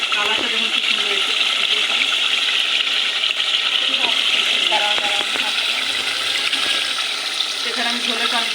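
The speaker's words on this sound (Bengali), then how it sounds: "সেখানে আমি ঝোলের পানি দিয়ে দিলাম।" Broth water pours steadily into a pot of beef curry with new potatoes, a loud, continuous rushing splash lasting several seconds with a few faint clinks.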